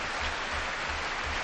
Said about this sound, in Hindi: एक बार ताली बजा के उनका प्रोत्साहन करें